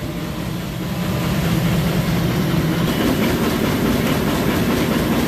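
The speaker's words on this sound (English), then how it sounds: "There is a compressor." An HVAC air-conditioning compressor tries to start during a locked rotor test, giving off a loud, steady, rumbling drone that grows slightly stronger after the first second and holds without a break.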